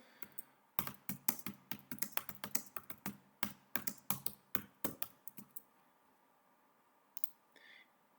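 Computer keyboard typing in rapid bursts of sharp key clicks, a steady flurry for about five seconds, then a few scattered taps after a pause, fairly faint and close, with no voices.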